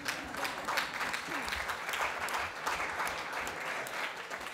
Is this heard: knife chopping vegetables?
no